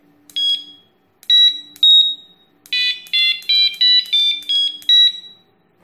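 A fishing bite alarm receiver sounds a series of bright, high electronic tones in short bursts, first spaced apart and then in a quick run of rising and falling beeps, close and clear against silence.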